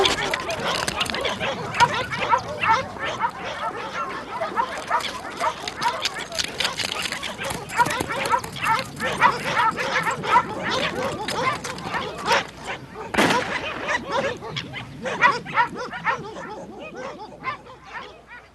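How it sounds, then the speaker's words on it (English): Hunting dogs on a puma's trail bark and yip excitedly in a chaotic, overlapping chorus with whimpers, loud and fairly close, continuing throughout with some human voices mixed in. "once the dogs are on her trail, the boundaries might be ignored"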